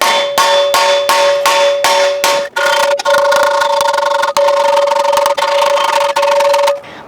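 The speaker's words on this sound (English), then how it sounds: "Let's give this stubborn piece one more go at it with the smaller hammer." A small hammer strikes metal in rapid ringing blows while hammering out dents, first in a quick regular series, then in steadier spaced taps, loud and close.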